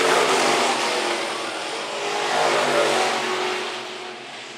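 Stock cars roar around the dirt oval at Phillips County Raceway during the main event, a loud, continuous engine drone that swells and fades slightly as the pack passes.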